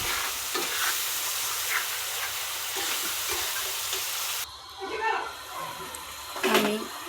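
Taro pieces and green chilies frying in a pan, a dense close sizzle with scraping stirs, then quieter hissing with a few spatula strokes after a cut, under faint background talk.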